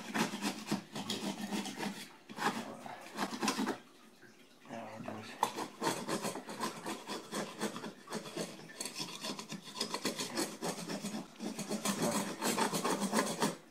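A tool scrapes and rasps repeatedly across a kitchen tile repair in steady rough strokes, pausing briefly midway before carrying on close and continuous.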